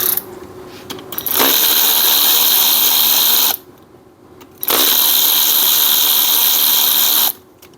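A power tool whirs loudly and steadily in two long bursts while taking the pulley off a vintage 1971 Moto Guzzi Ambassador police motorcycle engine, with quieter shop noise between runs.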